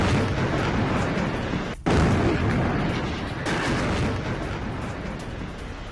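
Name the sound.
explosions from news footage of an attack on a Hamas command center in Gaza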